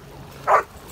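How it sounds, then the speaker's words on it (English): A single short dog bark or yip rings out during a group walk for energetic dogs, brief and fairly close against quiet background. "this is our group for the wild and woolly woofers"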